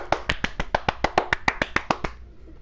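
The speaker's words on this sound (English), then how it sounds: "Actually, I want to keep clapping" A single person claps their hands about a dozen times in a quick, even rhythm, each clap sharp and close, then stops and leaves near silence.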